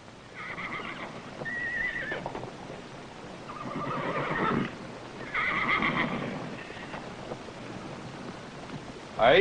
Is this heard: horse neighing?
yes